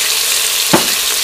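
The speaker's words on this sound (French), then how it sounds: "là mon bœuf est bien doré" Beef browning in a saucepan gives a loud, steady sizzle, with a short stirring scrape just after the midpoint.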